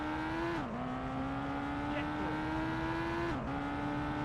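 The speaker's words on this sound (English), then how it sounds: "we'll handbrake it out of the junction and retake the lead" A rally car in V-Rally Championship Edition 2 holds a steady, buzzing engine note that dips sharply twice as the handbrake is pulled through a junction turn, then climbs back under throttle.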